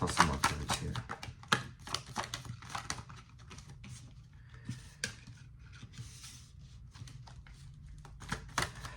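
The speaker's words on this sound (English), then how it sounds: "Let me just pull some more cards here." Tarot cards are shuffled and pulled from the deck, a quiet, close run of rapid papery flicks and taps with a few slightly louder snaps, continuing throughout.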